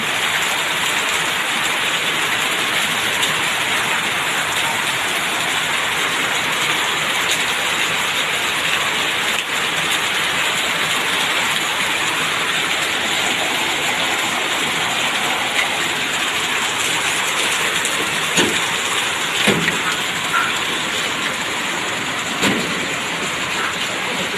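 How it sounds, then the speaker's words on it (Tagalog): Steady, dense broadband hiss of heavy rain pouring continuously, with a few faint knocks and clatters rising briefly above the downpour. "ang lakas ng ulan"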